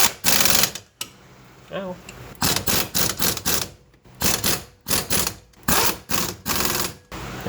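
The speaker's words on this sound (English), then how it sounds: "I'm going to make them tight with my air gun" Pneumatic air impact gun tightening 19mm strut bolts on the rear suspension of a Toyota Camry station wagon: a series of loud, close, rapid hammering bursts, each lasting about half a second with short gaps between, with a brief voice partway through.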